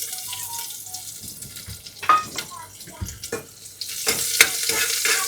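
Whole spices and garlic frying in ghee in a pan, giving a soft sizzle broken by stirring scrapes and a few sharp clinks, with a faint hum underneath.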